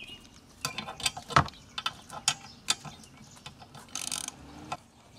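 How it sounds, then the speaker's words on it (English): Ratchet with a 15 mm socket tightening the wiper arm nuts on a Ford Escape, a series of quick close clicking ratchet strokes in irregular bursts. "So get your 15 millimeter socket again. Take the 15 millimeter arm nuts and tighten them up."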